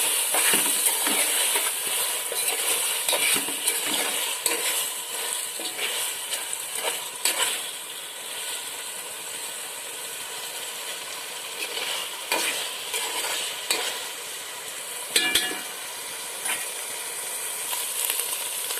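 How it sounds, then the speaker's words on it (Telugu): Taro root (colocasia) fries in oil with about ten curry leaves, giving a steady close sizzle and hiss with scattered stirring scrapes throughout. "చెమగడ్డలో ఒక పది కరివేపాకు రెబ్బలు వేసుకోండి వేసుకుని ఒకసారి ఫ్రై చేసుకోండి"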